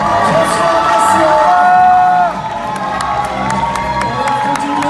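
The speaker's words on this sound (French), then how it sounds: "On applaudit bien fort." A crowd cheers and shouts loudly at a bodybuilding competition awards, with whoops rising over a dense roar that drops a bit halfway, while scattered claps tap through.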